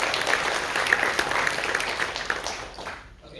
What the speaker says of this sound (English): Round of applause for Alexander.